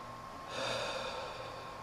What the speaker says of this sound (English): I'm getting a little nose run, a little sniffle here.